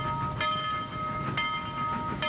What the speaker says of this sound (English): This is the Cambries, Toltec, and Scenic Railroad.